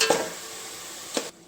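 Rice frying with garam masala for pulao, a steady loud sizzle filling the pan, with a couple of sharp spoon clinks against the pot as it is stirred.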